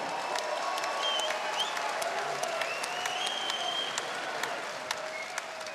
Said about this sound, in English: a round of applause for these two warriors